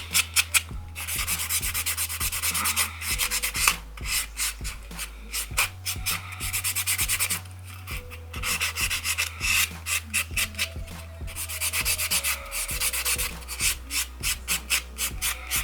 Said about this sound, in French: le bloc fait que la surface soit lisse de l'ongle